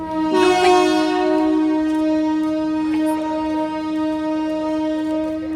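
A train on a trip to Shivgadi in Jharkhand sounds a loud, sustained horn with a steady tonal drone, close by, over the rumble of the running train.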